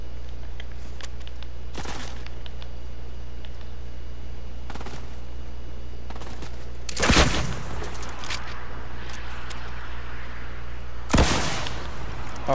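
Gunshots from a gun in a video game, a few isolated sharp shots spread across the clip, two of them louder around seven and eleven seconds, over a steady low hum with no talking.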